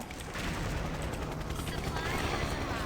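Dense, continuous gunfire with rapid bursts and shots from a game, a busy battle mix with speech faintly mixed in.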